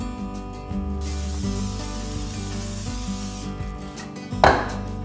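Cooking spray hisses continuously into a 9x9 baking pan for a few seconds, then a couple of short bursts and a clunk, close by and fairly loud.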